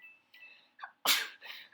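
Someone sneezes once, close and sudden, with a sharp loud burst after a short breathy intake, in an otherwise quiet store.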